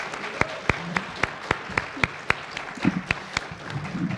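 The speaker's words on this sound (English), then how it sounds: "give a round of applause for our wonderful panelists" An audience at a conference panel in a ballroom applauds, heard as sharp, evenly spaced claps that fade into a murmur of voices toward the end.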